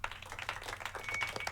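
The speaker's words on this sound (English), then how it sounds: "Please give a warm round of applause for one of our very own seniors and the head of the AV Club" Applause for a senior and head of the AV Club at a school gathering: a brief, dense patter of many hands clapping steadily without any voices.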